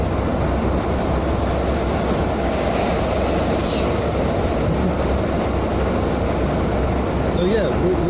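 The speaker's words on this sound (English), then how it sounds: "Oh, here comes a bus." Bus passing through a road tunnel between Italy and France, heard from inside a car as a steady, loud broadband roar that fills the whole clip, with no clear build or fade.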